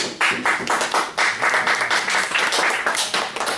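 Classroom students clap for a classmate going up to the front, distinct individual claps in a quick uneven rhythm, close and fairly loud, with no talk over them.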